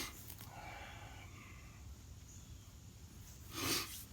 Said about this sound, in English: you do have to excuse the sniffling